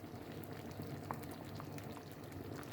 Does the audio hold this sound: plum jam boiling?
yes